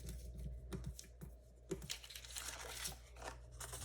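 A circle cutter slices through paper, soft scratchy scraping and light crinkling in short close bursts, quiet overall.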